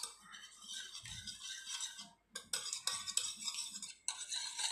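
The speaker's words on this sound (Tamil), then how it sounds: "அது கூட நம்ம எடுத்து வச்சுருக்க கால் கப் எண்ணெயை சேர்த்துக்கலாம். இது ரெண்டையும் நல்லா மிக்ஸ் பண்ணிக்கலாம்." Eggs and a quarter cup of oil whisked together in a bowl for cake batter: quiet, quick clinking and scraping strokes against the bowl, fairly close, with one brief pause midway and no talking.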